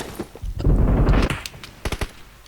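Gunfire in the mobile battle royale game PUBG Mobile: a dense, loud burst of rapid shots followed by a few sharp single cracks, close and with no one talking over it.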